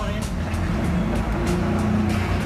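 A Formula One two-seater car engine at the Canadian Grand Prix hums steadily and close, with a dense, constant mechanical roar and no clear rise in pitch, mixed with broad background noise.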